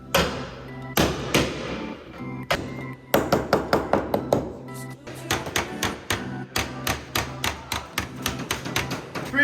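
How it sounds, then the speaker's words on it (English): Hammer blows on sheet metal over a shaping block in a metal art class: sparse strikes at first, then a steady run of rapid, ringing whacks, close and loud with no talking. "I'm going to give it a few whacks to kind of start getting that shape"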